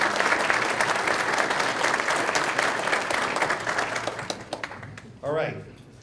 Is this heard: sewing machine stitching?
no